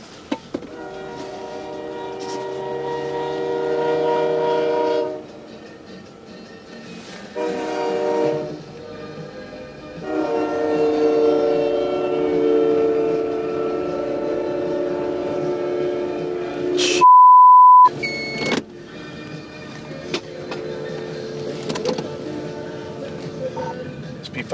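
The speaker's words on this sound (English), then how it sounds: "I just had a train strike a truck out here at 7 and 101." A freight train sounds long, loud blasts of its horn at a Minnesota crossing on Highway 7 and 101 before hitting a semi truck, followed by a sharp crash and loud tones with speech and radio chatter around it.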